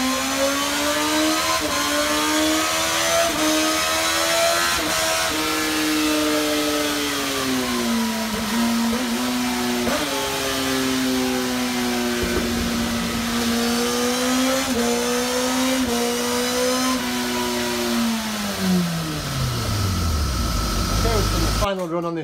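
Suzuki GSX-S1000 motorcycle on a dyno with a reflashed ECU, engine held at steady high revs through a long run with rising and falling pitch, then dropping off toward the end; loud and close, continuous.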